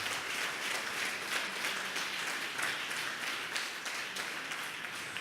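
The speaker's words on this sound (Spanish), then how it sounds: "Aplauda con ganas." A church congregation claps steadily throughout, a dense patter of applause at moderate distance with no talking.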